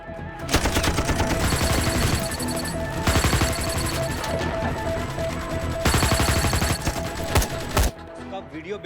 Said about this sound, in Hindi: हम तो फायरिंग कर रहे हैं सर।